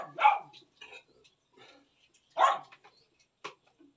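A puppy gives a few short, high yips and barks spaced apart, fairly close and moderately loud, with quiet gaps between.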